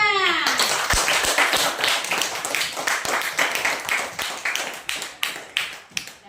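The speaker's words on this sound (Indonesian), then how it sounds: "Tepuk tangan semuanya." A classroom of children claps together, starting as a dense burst of applause and thinning into quick, rhythmic hand claps that grow more separate and punchy toward the end.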